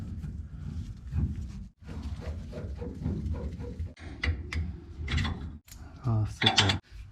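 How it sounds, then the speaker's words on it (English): Metal threading and ratcheting clicks from tightening a CalTracs traction bar onto a car's rear, repeated short mechanical bursts with a voice talking over much of it. "Go ahead and screw this side on"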